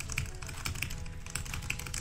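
Rapid typing on a computer keyboard, quick clustered key clicks tapping in fast irregular bursts, close up and alone without talk.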